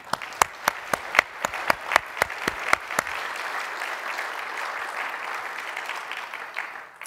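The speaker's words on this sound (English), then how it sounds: "Please join me in giving these individuals a round of applause" A few sharp individual claps quickly swell into a crowd's sustained applause, which holds steady for several seconds and then fades.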